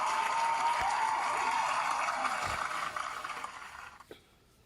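A dense burst of hand clapping holds steady and fairly loud, then thins out and dies away near the end with a few last claps.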